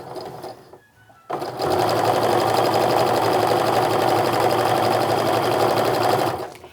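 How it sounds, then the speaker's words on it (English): A sewing machine stitches quilt charm squares with a quarter-inch seam, running in one steady, loud, continuous burst after a short quiet start, then slowing to a stop. "I'm just going to go ahead and sew down using a 1/4-inch seam as I go down here"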